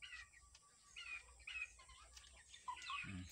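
Red junglefowl (labuyo) giving short, bright calls in quick bursts, faint and close among other fowl, with a low cluck near the end.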